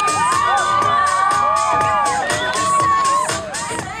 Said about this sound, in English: The louder you cheer, the better the tricks get